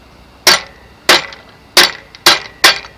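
Five sharp hammer or mallet blows on punched perforated metal strip held over the edge of a vise, bending it; loud, close metallic-wooden knocks spaced about half a second apart with brief ringing decay, no talking.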